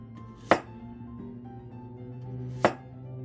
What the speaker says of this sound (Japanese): じゃがいもですけど皮付きのまんま5ミリぐらいに切ります